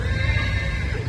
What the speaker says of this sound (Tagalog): yan may mga kabayo